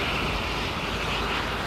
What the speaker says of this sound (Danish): at sidde ved styrepinden i et F-16-fly, der kan flyve fra Skrydstrup i Jylland til Bornholm på kun 10 minutter